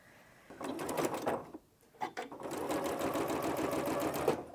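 Sewing machine stitching two fabric strips together with a quarter-inch seam: a fast, even mechanical whir in two runs split by a short pause, near and clear, with a faint voice beneath.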